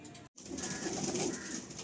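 A solid red female pigeon coos softly, a low continuous murmur in a quiet loft with faint background hiss and no talking.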